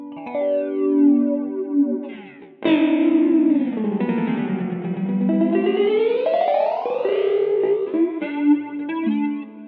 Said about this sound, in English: it's an LFO driving a comb filter